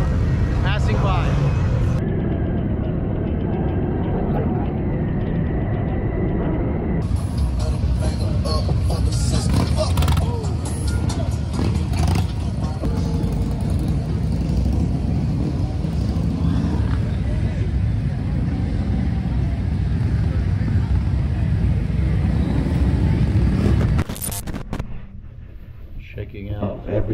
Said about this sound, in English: Show the bikes that are riding by, passing by.